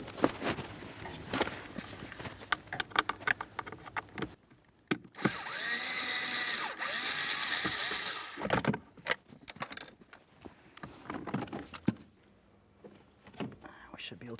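A power drill fitted with a Phillips bit whirs steadily for a few seconds as it backs out a mounting bolt on the front HVAC blower motor of a 2008-2016 Chrysler Town & Country, between clanks of tool handling and talking.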